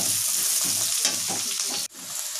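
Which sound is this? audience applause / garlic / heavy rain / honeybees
garlic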